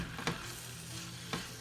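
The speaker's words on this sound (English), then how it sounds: "we're going to go ahead and add our eggs that we cooked" Cooked eggs go into a hot, sizzling one-pot dish: a steady fry hiss runs throughout, broken by two soft thuds as the eggs land in the pan.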